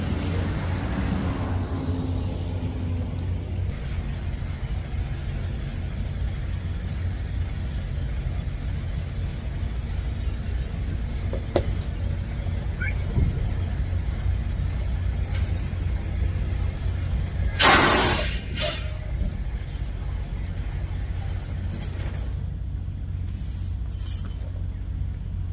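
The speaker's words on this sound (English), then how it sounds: "we're going to move the truck back about a foot or so" A heavy truck's engine idles and rumbles low and steady as it backs up about a foot, creeping slowly, with a brief hiss of air brakes near the end.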